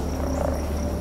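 A dense chorus of frogs in the video game Antichamber croaks and trills continuously over a low steady hum, brief and fairly loud.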